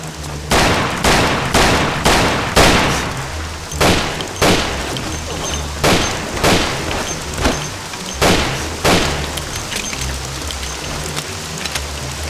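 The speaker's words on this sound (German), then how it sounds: "Wer ballert der da rum, oder was?" Gunfire in the video game Mafia: a dozen heavy shots in a loose, uneven rhythm, each a loud close blast with a short decay, over a low steady rumble.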